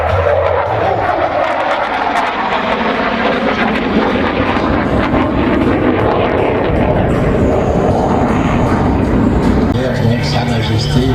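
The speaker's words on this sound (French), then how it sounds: "Sa Majesté, le Rafale Marine, grosse sortie de" Rafale Marine jet aircraft flying at an airshow in La Ferté Alais, a loud rumbling engine roar that swells and shifts as it passes, with a French commentator speaking over it throughout.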